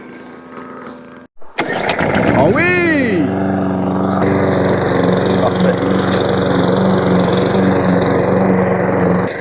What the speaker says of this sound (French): on met le petit coup de tondeuse qui va bien